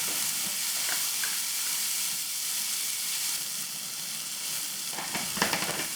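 Vegetables for rava paniyaram sauté in a pan with a steady, close sizzle, with a few soft spatula scrapes and taps near the start and end.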